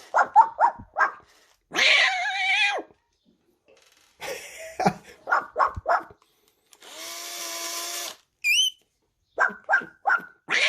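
Dogs outdoors bark in short, sharp bursts with quiet gaps between, a few longer noisy stretches mixed in among the barking.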